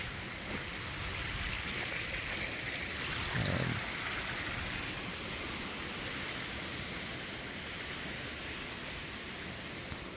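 Creek water flows steadily at the low point of a washed-out pond, a continuous broad rushing wash, close and even throughout with no talk.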